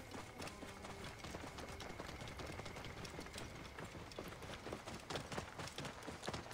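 Horse hooves in Assassin's Creed Origins, a quiet run of clip-clopping steps with a low game background underneath, continuous and fairly even in rhythm.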